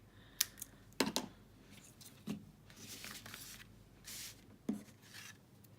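Scissors cut through mini silver sequin trim in a few short, crisp snips, quiet and close, spaced irregularly with soft rustling between them.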